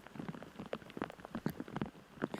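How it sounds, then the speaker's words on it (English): Steady rain patters on surfaces outdoors at a disc golf tournament final, a dense irregular spatter of drops close by, with no voices over it. "it looks like the rain may be slowing down a little bit"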